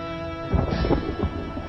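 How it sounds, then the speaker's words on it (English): Thunder inside a Microsoft Flight Simulator adventure's audio introduction: a deep rolling rumble sets in after a quiet start, swelling with a couple of heavier surges before fading into a steady low grumble, with no talk. "It is thunder."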